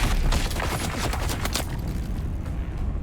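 Gunfire in the video game Dune: Awakening, a loud, rapid volley of shots with bullets striking cover for the first second and a half, then fading into a low rumble.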